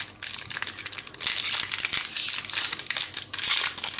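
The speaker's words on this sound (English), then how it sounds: "We're gonna open some packs" Magic card booster pack wrappers for Rivals of Ixalan being torn open up close, a dense run of crinkling and ripping foil with no talking.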